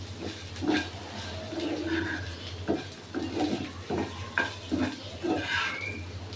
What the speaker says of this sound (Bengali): এখন আমি একটু ভেজে এটা শিলপাটায় বেটে ভর্তা করব